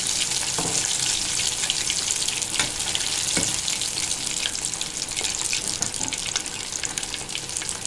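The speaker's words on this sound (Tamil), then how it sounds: "மீன் நல்லா பொறிஞ்சு வரட்டும்" Seer fish (vanchara meen) fries in hot oil, giving a loud, dense, continuous sizzle with small pops. No voice is heard over it.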